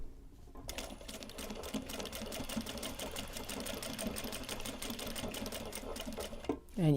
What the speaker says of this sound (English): I'm back stitching over my ends